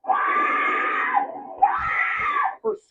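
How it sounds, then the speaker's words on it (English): A woman screams in terror as a masked gunman runs up to her at her garage, two long sustained shrieks with a brief gap between them, loud and close, caught on a home surveillance camera and followed by a few thumps. "Her scream is chilling."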